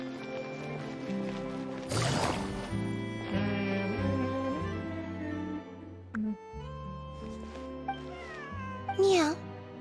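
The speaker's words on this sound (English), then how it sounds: "Meow. Meow. Meow." A cat-like voice meows repeatedly in the video game Genshin Impact, several drawn-out mews rising over steady game music.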